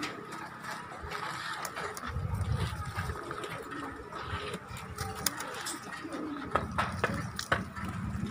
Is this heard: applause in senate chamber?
no